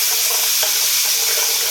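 Garlic sizzles in melted butter in a pan, a loud continuous hiss and crackle with occasional soft scrapes as it is stirred, close up and alone.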